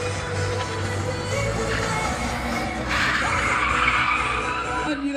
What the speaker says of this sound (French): Ce véhicule est arrêté de justesse en bout de piste